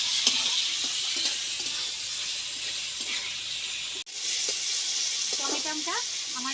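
Young radish pieces frying in oil for mung dal, a continuous bright sizzle with faint clinks of stirring, close up; a short break in the middle, and a voice murmurs briefly near the end.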